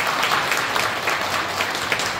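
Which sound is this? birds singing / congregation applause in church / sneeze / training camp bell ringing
congregation applause in church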